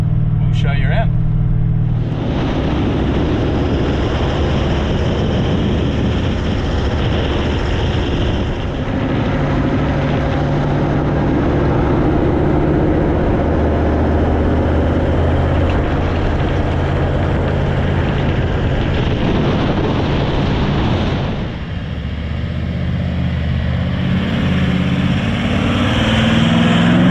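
A car engine drones steadily while towing a Terra Trek Expedition off-road camper trailer, a loud continuous cabin hum with road rumble, briefly easing near the end; a voice talks over it at times.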